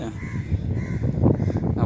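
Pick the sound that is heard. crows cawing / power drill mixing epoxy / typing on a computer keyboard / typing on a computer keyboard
crows cawing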